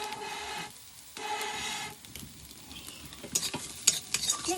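Food stirred and fried on a clay stove: steady sizzling broken by a pause, then scraping spoon strokes and clinks against the pan, with no talk.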